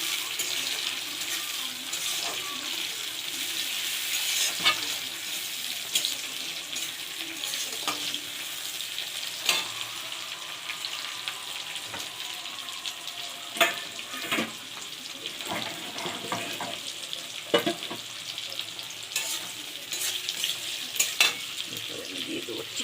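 Tomatoes sizzling in a hot frying pan, a continuous bright crackle with scattered sharper pops and stirring clinks, steady and close.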